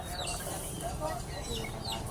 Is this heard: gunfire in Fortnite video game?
no